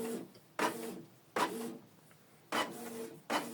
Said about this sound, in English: it will prompt the printer to print network configuration report